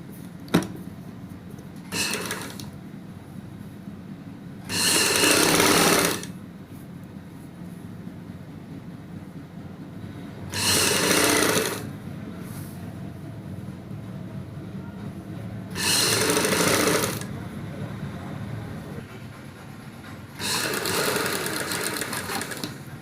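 A sewing machine runs in four short loud bursts between quieter pauses, stitching a double-folded black rib strip onto a kurti neckline with a single-foot seam, close and unaccompanied by talk.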